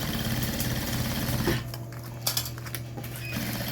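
A sewing machine stitches synthetic plastic material on its widest zigzag stitch setting, giving a steady close mechanical whir for about a second and a half before it stops and a couple of small clicks and handling sounds follow.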